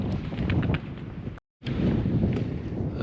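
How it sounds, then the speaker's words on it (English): Steady wind gusts buffet the microphone out on Marion Bay Pier, a continuous blustery rush with a brief dropout midway, with no voices. "Just a lot of wind."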